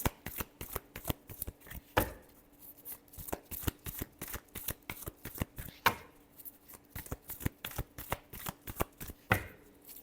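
A deck of tarot cards is shuffled by hand in quick, close, crisp riffles of rapid snapping flicks, coming in bursts with short pauses between rounds, with no voice.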